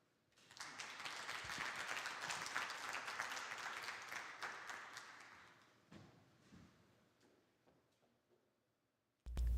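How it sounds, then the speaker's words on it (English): Symposium attendees applaud at a climate and health event, a fairly faint wash of clapping that swells, holds, then tapers to a few scattered claps before a sudden sound cuts in at the end. "Please welcome him with a big round of applause."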